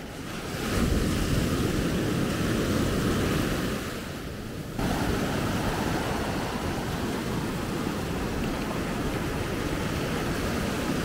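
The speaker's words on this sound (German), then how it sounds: "Ja, hier sind noch mehr Wellen" Steady roar of ocean surf at Maspalomas, Gran Canaria, with waves breaking continuously, loud and close, wind rushing over the microphone throughout.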